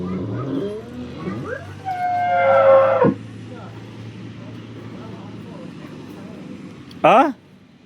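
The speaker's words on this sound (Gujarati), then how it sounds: "અને તમામ બનાસકાંઠાની લોકલ ગાયો છે" Local Banaskantha cows on a farm: one drawn-out moo rises and falls over steady background noise, and a brief higher call comes near the end, with people talking nearby.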